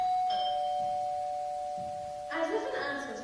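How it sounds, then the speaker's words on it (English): A doorbell chimes during a school stage performance of a Sherlock Holmes Baskerville play, a bright sustained ding-dong tone ringing clearly in the hall, followed by another chime as voices begin. "As if an answer to Holmes' self-reproach, the doorbell rang at this very instant, and Henry and Mr. Stapleton arrived"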